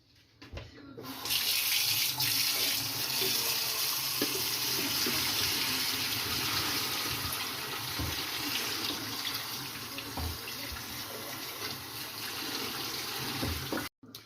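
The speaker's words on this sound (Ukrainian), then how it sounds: "ми його виключаємо і дуже добре промиваємо під холодною водою" Cold tap water runs steadily into a sink for many seconds as boiled rice is rinsed, a loud continuous rushing that starts abruptly and cuts off at the end.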